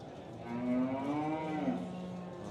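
A buffalo at a busy livestock market in Chichawatni gives a long, drawn-out moo with a falling pitch, close by and loud over steady crowd and market background noise.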